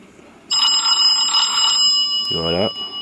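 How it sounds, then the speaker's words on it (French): A Talinfone P5 DMR POC Android radio plays its ringtone, a bright electronic trill that chimes loudly and close for about a second, then a short rising tone follows, over faint background hiss. "c'est la sonnerie que tu choisis dedans"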